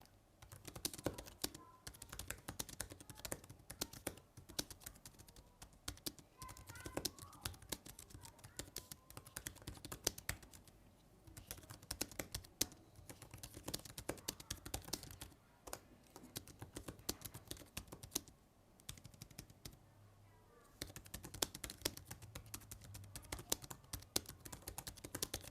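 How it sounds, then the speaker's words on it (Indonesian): Fingers type on a Nillkin Cube Pocket folding tablet keyboard paired with an Oppo Pad 3, giving quick, close, irregular key clicks in bursts with brief pauses, no voices. "Sekarang saya mau tes ngetik dulu."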